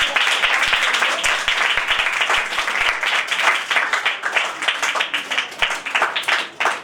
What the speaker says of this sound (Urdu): سو زوردار تالیاں بجائیں گے۔